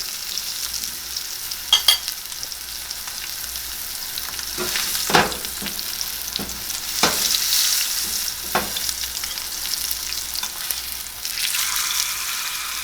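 A New York strip steak sears in a hot pan with a steady close hiss, several sharper crackles and pops standing out, and the sizzle swells brighter near the end; no voices.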